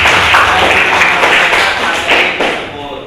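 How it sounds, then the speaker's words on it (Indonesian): Students in an Indonesian classroom clap loudly for their classmates, a dense, close burst of hand claps that fills the whole moment and eases slightly at the end. "tepuk tangan buat teman-teman"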